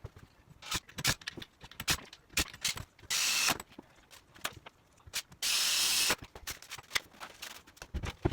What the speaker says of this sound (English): I'm gonna screw this back into the wall and put everything together.